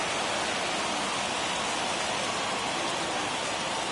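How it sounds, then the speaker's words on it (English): Steady rain ambience in the baseball video game MLB The Show 21: an even, dense wash of falling rain that holds constant throughout, with no voices. "There is rain in the area"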